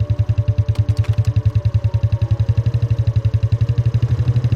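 A motorcycle idles on a road nearby, its engine putting out a steady, fast, loud thumping pulse throughout with no talk over it.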